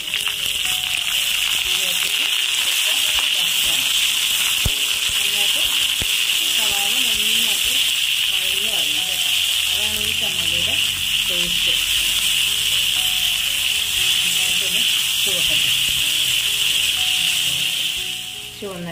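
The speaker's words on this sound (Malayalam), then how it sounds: "ഞാനിവിടെ ഒരു മൂന്ന് സവാള വെച്ചിട്ടുണ്ട്. അത് നന്നായിട്ട് വഴറ്റിയെടുക്കണം." Three onions sautéing in a pan for a Kerala chammanthi give a steady, loud hiss and sizzle that runs unbroken throughout, with someone talking over it.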